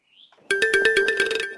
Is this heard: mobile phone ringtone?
yes